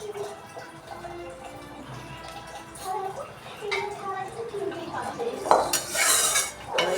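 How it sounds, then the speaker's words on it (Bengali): Scrubbing a cooking-blackened iron wok (kadai) among other dishes, with clattering metal scraping and clanks building to louder bursts near the end, mixed with light water and background speech. "কড়াইও আছে, বের করে মেজে নিই।"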